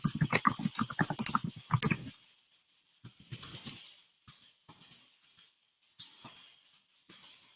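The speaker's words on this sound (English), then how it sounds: "Acrylic nails, slow typing." Slow, uneven clicks of acrylic nails tapping a computer keyboard, a few sparse strokes spaced apart after a burst of louder handling noise at the start, close and quiet.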